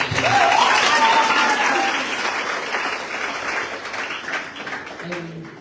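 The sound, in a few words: audience applause at a campus seminar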